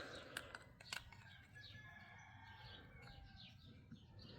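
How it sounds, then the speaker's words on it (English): Faint outdoor birdsong with chirps and distant crowing roosters over a steady low rumble, a couple of sharp knocks early on, all quiet and far away. "Hope you can hear the sounds of the birds and roosters"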